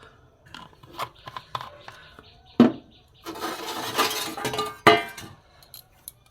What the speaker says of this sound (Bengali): এখানে আমি কড়া বসিয়ে দিয়েছি, দিয়ে এখানে সর্ষের তেল দিয়ে দেবো।